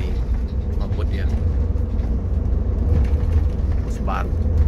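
A new Jetbus 5 double-decker coach runs fast on a bumpy road, giving a constant loud engine and road rumble heard from inside, with people talking over it.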